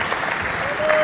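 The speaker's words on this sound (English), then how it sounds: "Round of applause for Douglas and Pangburn Philosophy for putting this on" Audience applause at the close of a live Q&A event, a steady wash of clapping from a crowd with a faint tone underneath, sustained and building slightly toward the end.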